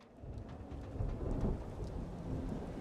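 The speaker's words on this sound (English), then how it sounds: "Just as the storm rolls in." Thunder rumbles low and steady under heavy rain as a storm rolls in within the video game Dishonored 2, a continuous dense wash with no voices.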